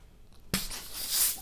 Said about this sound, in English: Blowing up an orange balloon.